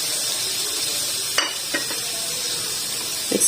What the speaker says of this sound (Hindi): इसको हल्का सा सौते करेंगे। के साथ ही मैं इसमें सारे मसाले ऐड कर दूंगी